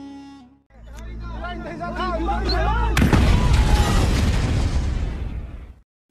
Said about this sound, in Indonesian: Lalu tiba-tiba ibunya meledakkan diri.